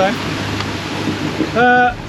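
Strong 30-knot wind gusts buffet a family sailboat at sea in a storm, a loud steady rush of wind over the microphone, with a brief tonal whistle or voice near the end.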